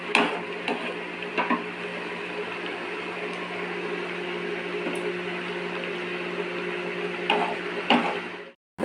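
Pabda fish frying in hot oil in a wok gives a steady, close sizzle with soft crackles, holding level throughout with a few louder spatters and clinks near the end.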